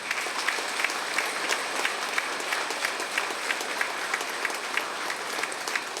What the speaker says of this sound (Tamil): இந்த மேடையில் இருக்கின்ற அத்தனை பெரியவர்களுக்கு ஒரு கைத்தட்டல் கொடுங்க.